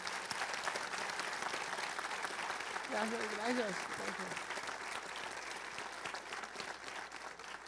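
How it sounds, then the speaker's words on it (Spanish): Audience applause at a regional cooking symposium honoring a cook in Mexico City, steady dense clapping filling the whole stretch, with a brief spoken word of thanks heard over it midway. "Un aplauso, por favor."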